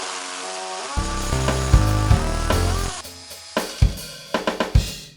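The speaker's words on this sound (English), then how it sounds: "I'm now going to turn the drill onto hammer action, and I'm going to drive a little bit harder into the wall" A hammer drill bores into a wall to fix wall plugs, whining with a steady motor tone and then breaking into rough bursts and repeated short hammering stabs as it pushes deeper, close and loud.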